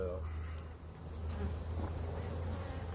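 A packed honey bee swarm fills a nuc box with a steady, close, continuous buzzing hum that holds at an even level throughout.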